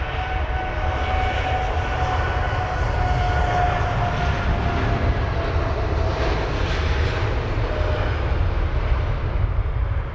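Steady broadband roar of a Virgin Atlantic VS105 jet returning to London Heathrow with a turbine problem, a continuous loud engine rumble with faint whining tones, heard alone without talk.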